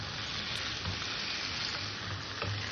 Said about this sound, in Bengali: সবজিগুলো দিয়েছি, আবারও তরকারিটাকে আমি ভালো করে কষে নেব।